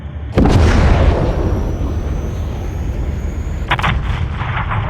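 A loud, close explosion in Call of Duty: Modern Warfare 3 as an enemy fighter jet is destroyed, a sharp blast followed by a long rumbling roar, then a second burst of gunfire-like cracks near the end.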